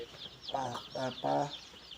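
Chickens cluck as the flock is herded together for drop vaccination, three short bursts of clucking close by with faint background noise between.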